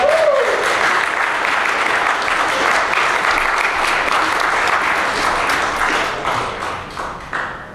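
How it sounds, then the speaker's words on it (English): Dense, steady applause from a large audience at a gaming panel discussion fills the room, holding strong for several seconds before gradually thinning out near the end. "Please give a hand of applause to Harry Krueger."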